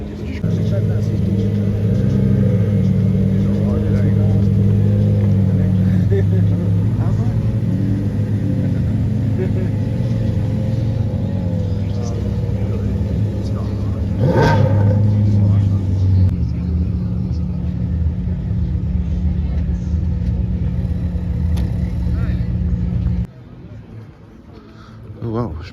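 Ferrari SF90 hybrid sports car engine running at close range, a deep steady rumble with a few revs and a sharp mid-clip burst, voices talking over it before it cuts out near the end.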